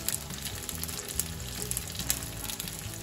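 Garlic fries in a pan for Maultaschen aglio e olio, giving a steady, close sizzle with a soft crackle and faint scraping throughout, and no talking.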